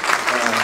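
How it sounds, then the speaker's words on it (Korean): A church audience claps loudly for a foundation secretary-general coming forward, in a brief, dense burst of applause. "우리 한번 크게 박수로 해주시기 바랍니다"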